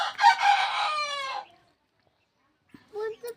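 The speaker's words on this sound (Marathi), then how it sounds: "हा, तो बघतोय कसा आवाज ऐकतो कोंबड्याचा" A farmyard rooster crows loudly and close, one long drawn-out cock-a-doodle-doo, then after a pause of silence gives a couple of shorter clucking calls.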